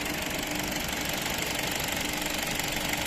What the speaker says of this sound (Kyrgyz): Мотордун звугуну угуп атасыздарбы?